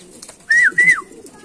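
A racing pigeon gives two short cooing notes in quick succession, clear and close, against a quiet outdoor loft background.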